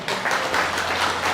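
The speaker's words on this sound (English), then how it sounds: "How about another round of applause?" A short burst of audience clapping at a memorial service, steady and fairly close, ending abruptly.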